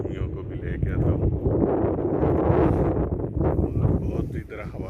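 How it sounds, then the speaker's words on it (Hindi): Strong wind sweeps across a hilltop, dirt lifting in the gusts, producing a steady, loud rumbling buffet on the microphone that persists throughout, with a voice faintly present beneath it. "बहुत इधर हवा चल रही है"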